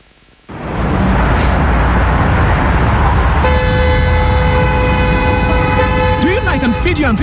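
Car horns honk in a staged traffic jam for a radio comedy skit, with loud steady traffic roar, overlapping sustained toots and short beeps building up and continuing throughout.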